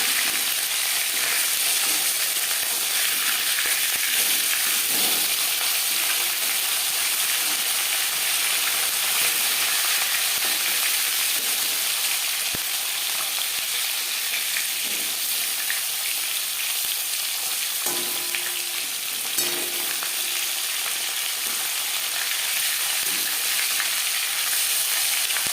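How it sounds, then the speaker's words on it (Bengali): Latha fish sizzles in hot oil in a pan, one side frying before being flipped, with a loud, steady, close crackling hiss that runs unbroken throughout without any voices. "একটা সাইড ভাজা হয়ে গেলে অপর সাইডটা উল্টে দেবো"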